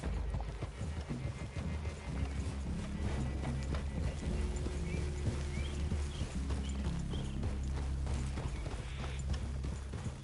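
Horses trot in Red Dead Redemption 2 in a forest clearing, hooves clip-clopping in a steady rhythm throughout, with occasional tack rattles and faint snorts, fairly close.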